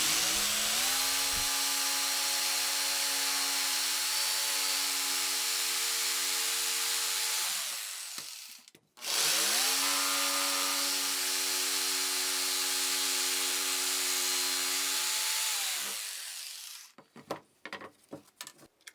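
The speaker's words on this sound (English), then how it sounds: "I'm going to drill into them, and then I'll cut out the middle part with a jigsaw." A power drill bores into wood for a table saw taper jig, with two sustained whining runs, each winding down before a brief pause, then a few sharp knocks at the end.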